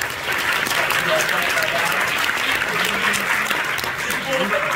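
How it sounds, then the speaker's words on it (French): Sustained applause from a crowd at a film festival closing ceremony, steady and fairly loud throughout, with dense clapping and no speech over it. "Vous pouvez encore l'applaudir, encore une fois."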